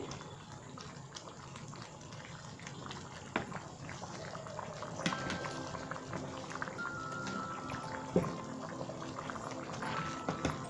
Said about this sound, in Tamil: நீங்கள் இன்னும் கொஞ்சம் நேரம் கொதிக்க விடலாம்